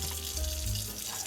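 Tap water runs into a sink for brush cleaning with Dawn dish soap, a brief quiet stream with a soft, steady splash.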